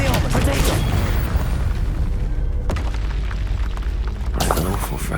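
Confringo, the fiery explosion spell in Hogwarts Legacy, sets off loud, booming blasts over a dense, continuous bed of game sound effects. A sharp burst lands near the middle, and another swells up toward the end.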